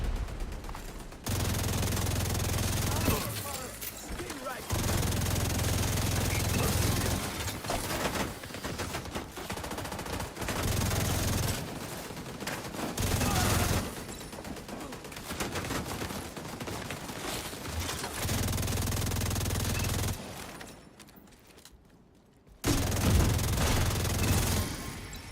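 Sustained automatic weapon fire in The Division 2, loud repeated bursts of rapid shots that run for several seconds each, broken by brief pauses and one longer quiet gap.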